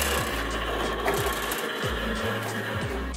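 A Melco EMT16X embroidery machine traces the design outline on a garment, a steady loud mechanical whir with repeated motor pitch sweeps and rhythmic shifting, close up and continuous, with no talking.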